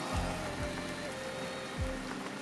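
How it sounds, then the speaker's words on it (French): Steady rain patters on a surface along a road in Brittany, with a few heavier drops hitting nearby against the soft constant hiss. "Il se met à pleuvoir."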